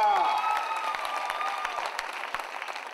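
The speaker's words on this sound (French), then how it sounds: "Est-ce que vous pouvez vous acclamer vous-même?" A concert audience at a Priscilla dedication concert breaks into sustained applause with some cheering, dense clapping that slowly tapers off while a voice speaks over it.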